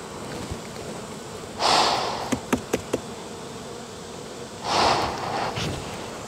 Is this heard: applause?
no